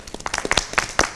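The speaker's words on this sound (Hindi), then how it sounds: "सब लोग अपने लिए तालियां बजाएं" Reality-show audience clapping for themselves, a short burst of distinct, fairly close hand claps in an uneven rhythm, with no speech over them.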